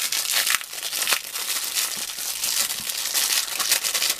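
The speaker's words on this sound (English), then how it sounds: "Cut into said bag. Let's just rip that open." A plastic bag holding a ZD Toys Iron Man Mark 42 action figure is ripped open, giving continuous close crinkling with sharper tearing bursts.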